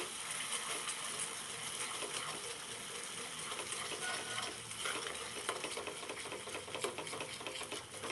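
A spoon works constantly through a thickening cornflour halwa mixture in a pan, giving a busy, steady scraping and bubbling texture that carries on without pause.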